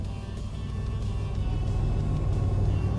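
A DE6 diesel locomotive in the train game Derail Valley rumbles with a steady, deep engine drone that swells slightly toward the end, heard alone.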